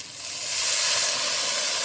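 Water poured into a hot pan of fried prawns and taro stolons sets off a sudden loud steam hiss that surges and holds steady as it boils up.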